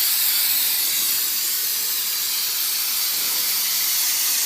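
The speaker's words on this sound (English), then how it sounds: "we just spray it on." Brake parts cleaner sprays onto a car's front brakes in one steady, loud aerosol hiss that runs without a break from start to finish, with no talking.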